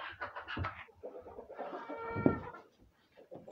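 Domestic hens in a coop cluck and murmur in short, uneven bursts, close by and fairly quiet, with brief pauses between calls.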